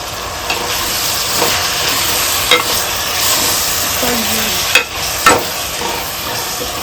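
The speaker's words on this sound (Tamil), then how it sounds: "புதினா நல்லா வதங்கட்டும்." Steady frying sizzle of mint leaves sautéing in a pan with occasional stirring scrapes and clinks, fairly loud and continuous, no talking.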